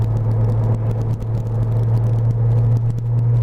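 A Porsche engine with an Arden 8-port build runs at a steady, deep idle, its low hum holding loud and close with no talk over it.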